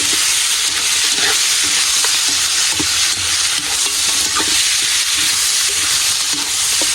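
Seasonings frying in hot oil in a pan for mung bean stew, a loud steady sizzle close up with occasional stirring scrapes, no voices.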